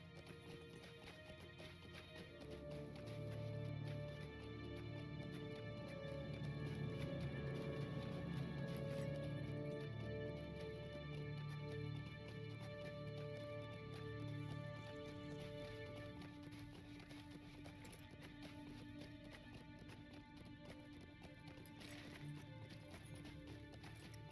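Horse hooves clip-clopping steadily as a rider crosses a mountain pass in the video game Lord of the Rings Online, a quiet rhythmic gallop with occasional whinnies over soft game music.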